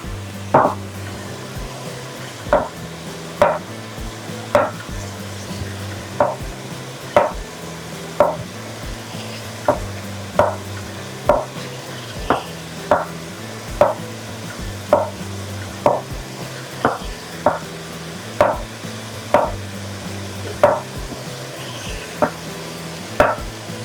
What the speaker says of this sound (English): I'm just gonna slice these up